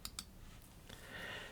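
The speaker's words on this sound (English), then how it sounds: "Click the check mark." Two sharp computer mouse clicks in quick succession near the start, faint and close, followed by soft background hiss.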